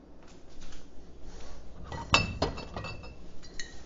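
Glassware clinks in a home kitchen while a herbed lemon chicken dinner with pesto is prepared. A bright, sharp clink stands out midway, with a few lighter taps and knocks around it at close range.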